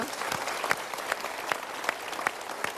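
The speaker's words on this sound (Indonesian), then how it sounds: "kita berikan tepuk tangan sama-sama" A studio audience on a motivational talk show claps together in a full, continuous round, with a few louder individual claps standing out at regular intervals.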